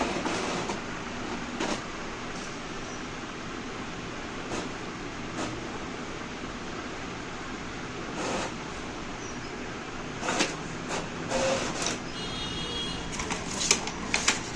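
An Epson L6460 inkjet printer running a photocopy job, giving off a steady mechanical whirr and rattle of paper feed and carriage motion, with louder clunks near the end.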